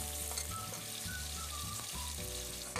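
Onions sizzle and crackle steadily in a hot pan, a dense frying hiss with faint stirring scrapes.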